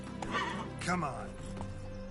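Roach, the horse in The Witcher 3, gives a loud whinny over clip-clopping hooves while someone speaks over it.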